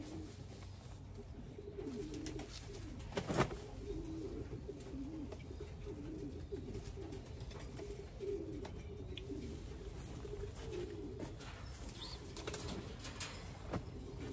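A blue bar racing pigeon coos softly in a quiet loft, with a brief burst of wing flapping early on and faint low calls continuing in the background.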